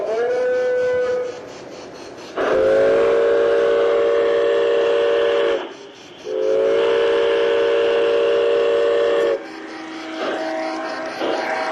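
A garden railroad model train sounds its whistle as it departs, giving long, steady tonal blasts close by with short gaps between them and a fainter tail at the end.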